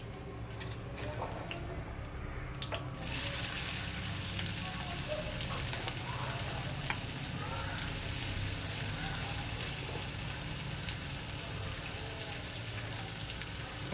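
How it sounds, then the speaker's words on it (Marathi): Chopped onion goes into hot oil with popped mustard seeds and asafoetida for a Konkani jackfruit bhaji, a soft, steady frying sizzle that swells as the onion is added, with faint ticking crackles throughout. "कांदा आपण लालसर होईपर्यंत परतून घेऊया."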